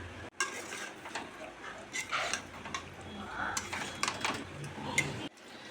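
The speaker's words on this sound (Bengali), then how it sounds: "এবার আলুগুলো দিয়ে ভালো করে কষে নিতে হবে।" Potatoes for Kashmiri dum aloo are stirred and sautéed in a pan, with repeated close spatula scrapes and metallic clinks over a faint sizzle.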